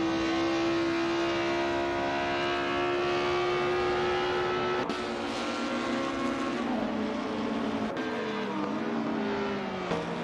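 1950s Formula 1 cars race in a video game, engines wailing at high pitch in a steady, loud drone with shifting tones as cars close in and pass, with no talk heard.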